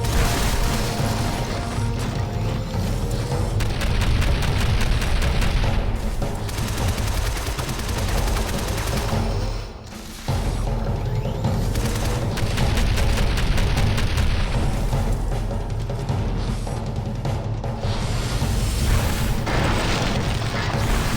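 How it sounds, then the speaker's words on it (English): Grenade blasts and gunfire from the video game Shadow Complex fill the whole stretch with dense, loud, repeated booms and crashes. One brief lull falls midway, and no one speaks. "those do some huge damage when he drops his nades"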